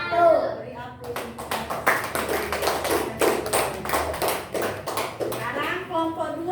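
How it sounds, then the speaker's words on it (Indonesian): A small group, apparently children in a classroom, claps for several seconds in a brisk, scattered burst of applause, close by, with voices chattering around it. "Beri aplaus"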